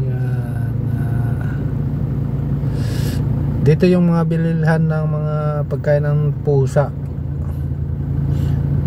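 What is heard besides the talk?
road traffic on C5 street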